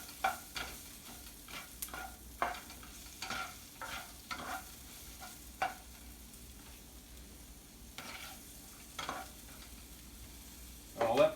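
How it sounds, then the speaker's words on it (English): Mushrooms with oil and pepper being stirred in a pan, quiet soft sizzling under a series of spatula scrapes and light taps, fairly faint, ending in a louder clatter, with no talking. "I'll give it a little stir to get the oil all over."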